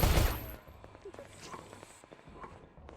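Machine gun fire in the video game Space Station 14: a loud burst at the start, then scattered sharp shots and clicks fading into quieter background game noise.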